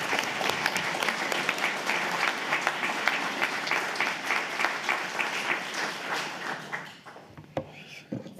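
A room of attendees at a Rotary club meeting applauds warmly to welcome a guest speaker, sustained clapping of many hands that runs for several seconds before tapering off into a few last claps.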